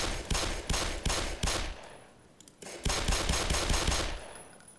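Rapid automatic gunfire in the video game Black Mesa, with two dense bursts of repeated shots separated by a short lull, loud and close, with no talking over it.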